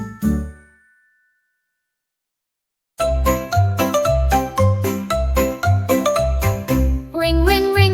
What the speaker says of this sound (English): Ring, ring, ring, my bell so sweet.